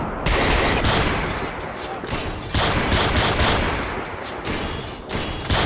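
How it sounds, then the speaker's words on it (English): Gunfire from a modded AutoMag pistol is aimed at a robot in the video game Fallout 4, heard as a dense, loud burst of repeated shots in several close clusters. "We're shooting his feet out from under him."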